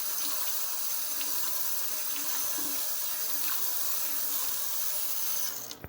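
Hot water runs from a kitchen tap in a steady, fairly quiet hiss, continuing without talk before cutting off at the very end.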